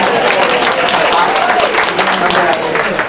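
Audience applause at a political talk on Kansas elections: a short, dense burst of clapping from a crowd, loud and continuous for about three seconds.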